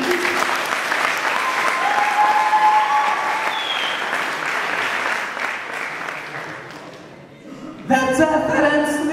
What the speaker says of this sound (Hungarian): egy tapsot kérdik szépen